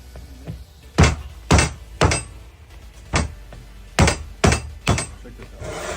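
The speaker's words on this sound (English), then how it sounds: "force from a hammer works" Seven sharp hammer blows on a metal part of a Mazda RX-7 FD, loud and close, spaced unevenly about half a second to a second apart.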